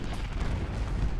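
Artillery and musket fire in the Civil War battle game Ultimate General Gettysburg, a dense, continuous roll of low booms and cracks with no clear pauses.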